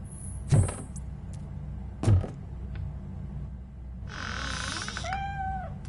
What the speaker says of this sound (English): The cat is fine.